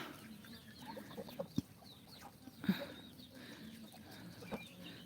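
Young chicks cluck quietly nearby in a few scattered bursts while eating, over a soft outdoor background.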